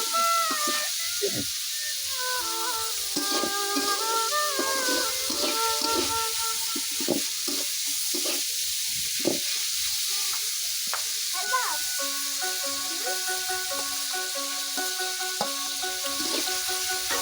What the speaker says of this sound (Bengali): সবজিগুলো দিয়ে আস্তে আস্তে ভাজতে লাগবে